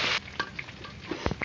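Cashews and raisins fry in a pan with cardamom, cloves, cinnamon and bay leaf, making a soft, close sizzle broken by a few brief stirring scrapes.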